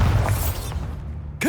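A Bombarda spell from Hogwarts Legacy detonates as a dull booming burst at the start, its rumble fading over about a second before a sharp new sound cuts in at the end.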